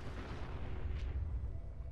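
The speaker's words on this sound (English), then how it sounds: "That's an epic explosion." Fat Man nuclear explosion in Fallout 4: a continuous low, heavy rumble rolling on for the full two seconds with a faint brief crackle in the middle, loud and dense with no voices.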